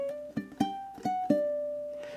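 Short ukulele lick closing measure 18 of a song, four or five quick plucked notes that finish on a sustained ringing tone, close and clean with no voices.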